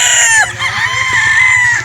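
A Boston Black gamefowl rooster at a gamefowl farm lets out a loud, close crow, with faint clucking underneath.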